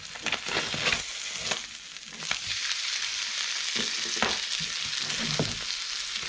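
Fish frying in garlic butter with lemon and dill in a pan outdoors, a steady loud sizzle with intermittent stirring and scraping knocks, close up and without talk.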